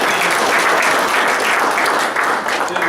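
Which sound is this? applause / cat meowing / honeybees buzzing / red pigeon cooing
applause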